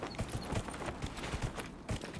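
Horse hooves clip-clop at a steady trotting rhythm in the video game Dragon Age: Inquisition, close and clear with a faint background texture.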